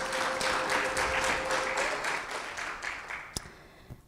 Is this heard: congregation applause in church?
yes